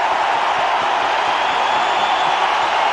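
Cricket stadium crowd erupting in cheers after a wicket falls, a dense, loud, sustained roar of many voices filling the ground without pause.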